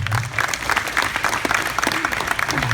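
An audience at a high school graduation-night hypnotist show breaks into applause, a loud, dense crowd clapping throughout the short stretch with a faint voice underneath.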